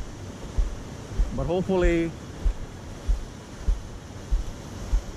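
Wind buffets a microphone outdoors over water, a steady low rumble with regular thumping gusts, while someone briefly speaks over it.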